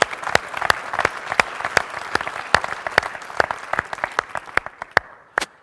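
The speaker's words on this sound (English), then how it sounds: "So let's start with an applause to be grateful that we are here." Lecture audience at a university valedictory event gives a short, sparse round of applause, with distinct individual claps close by that thin out toward the end.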